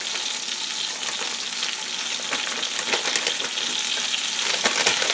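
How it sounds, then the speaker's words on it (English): A spoon stirs grated parmesan into a creamy garlic chicken in a pan, giving a continuous close frying sizzle with scattered crackles and soft scraping strokes, and no one speaking. "Alright, then you're going to stir that up in there."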